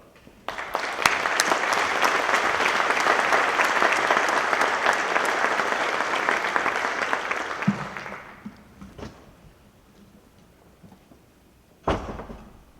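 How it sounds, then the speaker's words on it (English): Audience at the Elson S. Floyd memorial service breaks into sustained applause that fades out after about eight seconds, followed by a couple of isolated hollow thuds in a quiet hall. "What another nice round of applause"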